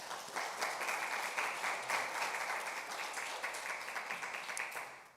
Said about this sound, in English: The audience can applaud.